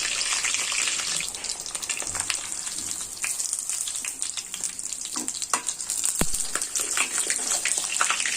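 Paneer pieces sizzle steadily in a hot, oily pan while being browned on both sides. The frying hiss is close, continuous and crackly throughout, with a few sharper pops and spatters.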